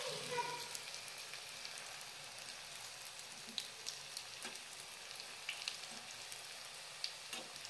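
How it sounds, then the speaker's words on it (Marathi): Bread and potato cheese balls crumbed in breadcrumbs deep fry in oil over a medium flame, giving a soft, even sizzle with scattered small pops and crackles, faint and steady throughout. "आणि बॉल्स छान असे फ्राय करून घ्यायचे आहे। मीडियम गॅसवरती आपल्याला फ्राय करून घ्यायचे आहे।"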